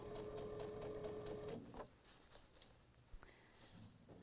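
A domestic sewing machine stitches quilt fabric pieces in a short close burst, a fast steady mechanical whir and hum that stops partway, followed by faint handling rustles and quiet room tone.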